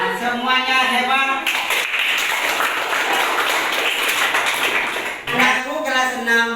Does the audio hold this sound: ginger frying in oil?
no